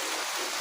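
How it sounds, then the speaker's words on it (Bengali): Rain easing off, a soft steady hiss of falling drops on surfaces, faint and continuous for a brief moment with no talking. "বৃষ্টি একটু কমেছে, ওই যে একটু কমেছে বৃষ্টি।"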